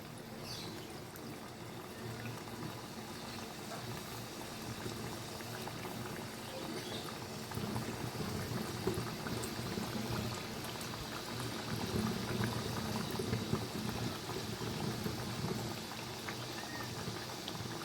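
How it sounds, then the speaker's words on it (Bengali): Khaja pastries deep-fry in hot oil for a sweet-shop style festival treat. A continuous bubbling sizzle churns throughout, swelling slightly in the middle, with no speech. "এখন আমি আরেক সেট ভাস্তে দিয়ে দেবো"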